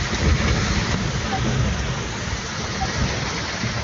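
Heavy rain pours steadily over Jakarta streets during a flooding downpour, a dense, continuous hiss with low rumble close by, loud and unbroken throughout.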